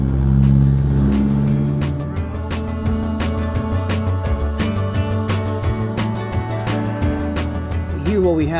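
Engine of a 1972 Toyota Corolla Deluxe Coupe revving hard and close, with sustained high-rpm drone and rising and falling pitch throughout, a voice talking over it.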